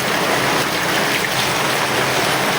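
Very heavy rain pouring down, a loud, unbroken wash of hissing roar heard close by with no other sounds.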